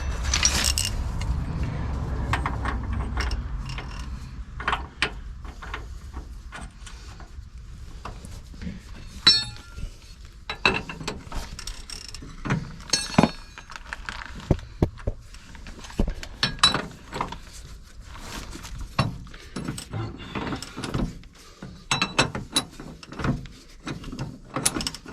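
Metal keys jangle and click repeatedly as they work a lock on a camper van, a close sequence of irregular small rattles and taps with a few brief voices.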